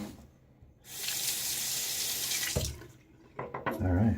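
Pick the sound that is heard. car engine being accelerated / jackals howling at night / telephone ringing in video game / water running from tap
water running from tap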